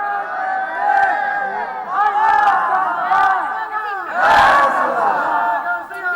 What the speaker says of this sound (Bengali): তাহলে একটা নারায়ে দেন দেখি আপনারা।